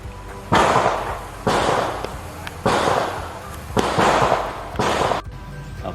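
Five loud, evenly spaced gunshots from a Taurus TS9 shotgun, each a sharp blast with a ringing tail, fired roughly one per second outdoors with no talk between them.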